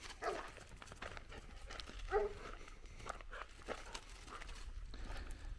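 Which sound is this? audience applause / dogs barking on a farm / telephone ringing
dogs barking on a farm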